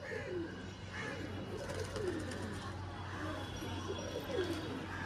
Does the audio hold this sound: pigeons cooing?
yes